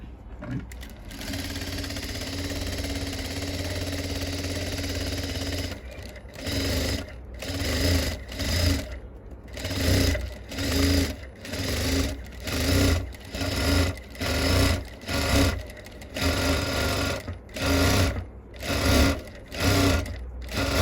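An electric sewing machine stitches blouse fabric nearby, first in one long continuous whir, then in a series of short, evenly spaced bursts with brief pauses between them.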